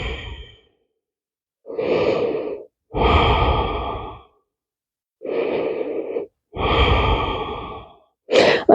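Deep yoga breaths drawn in and let out slowly, about five long, steady exhales separated by short silences, close and clear with no talking.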